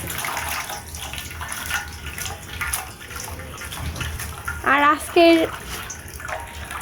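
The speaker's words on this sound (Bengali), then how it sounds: "কিছু ঠান্ডা পানি অ্যাড করে দিতে হবে।" Cold water is poured over boiled ramen noodles in a strainer, a steady splashing and running stream under a spoken voice, with a couple of brief louder sloshes near the end.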